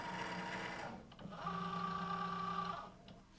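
A Cricut cutting machine works through cardstock with a steady motorized whir and hum, a brief pause as the carriage shifts, then another sustained buzzing pass, fairly quiet and close.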